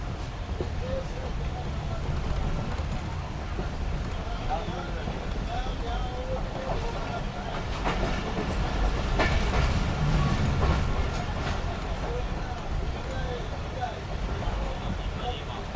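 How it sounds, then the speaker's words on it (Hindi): The Karakoram Express, made up of old coaches, rumbles steadily through a sharp curve, its wheels and carriages giving a continuous loud roar with some clattering and squealing throughout. "पूरी ट्रेन इस वक्त हमारी मोड़ पर है।"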